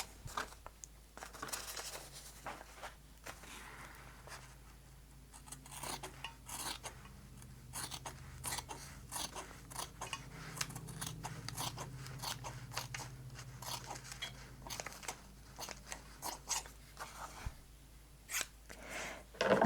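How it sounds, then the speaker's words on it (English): Ordinary scissors snip through quilting fabric in a quiet room, a series of crisp, close cutting crunches in irregular bursts, sometimes rapid and sometimes spaced apart. "Just use your regular scissors to cut that out"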